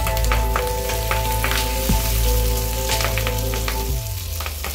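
Gandharaj vetki fish paturi frying in a pan gives a dense, continuous crackling sizzle with scattered pops, close and fairly loud, with no voices, easing slightly near the end.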